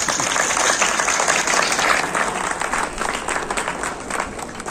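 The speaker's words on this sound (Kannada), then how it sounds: "ನಿಮ್ಮ ಅಭಿಪ್ರಾಯ ಹೌದಾದ್ರೆ ಚಪ್ಪಾಳೆ ಹೊಡಿಬಹುದು" Audience at a spiritual discourse applauding steadily, a dense, continuous wash of clapping held at an even level throughout and easing slightly toward the end.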